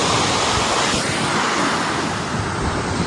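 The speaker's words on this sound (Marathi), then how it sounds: "अगदी उंचावरून पाणी कोसळत आहे" Uksi Ranpat waterfall, water plunging from a great height, a loud continuous broadband roar mixed with gusty wind buffeting the microphone.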